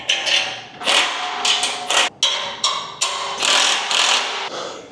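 Ratcheting clicks as bolts are tightened to join the hinges of an Ultra-Tow 4x8 folding trailer, loud and close, coming in several bursts separated by short pauses.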